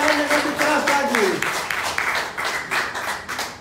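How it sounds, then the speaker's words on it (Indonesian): A church congregation claps loudly in a steady, regular rhythm, one full beat about every third of a second. A voice sounds briefly at the start, then the clapping carries on alone. "Tepuk tangan yang lebih keras lagi."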